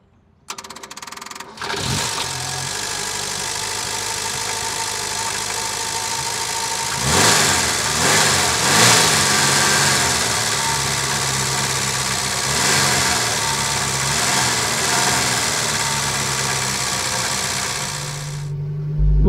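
A Renault 4L engine starts and runs steadily at idle before setting off, a close, rough mechanical drone that swells in the middle and stays constant throughout.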